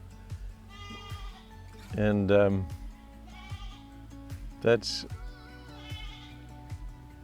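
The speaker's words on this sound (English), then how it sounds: "Can you hear that goat? There's a little goat that lives next door," A little goat next door gives a couple of distinct bleats, one loud and wavering, another shorter and sharper, with someone talking quietly between them.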